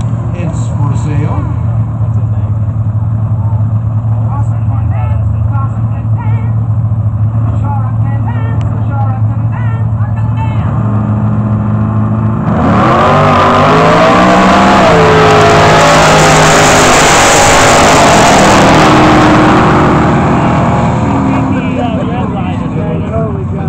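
Two Chevy Novas drag race, one supercharged, with a steady rumbling idle that bursts into a roaring full-throttle launch and a brief fading high-revving run, with voices in the background.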